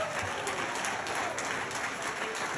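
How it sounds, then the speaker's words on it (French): An audience claps steadily, a dense patter of many hands at moderate distance with no voices over it. "maintenant sur les applaudissements du public."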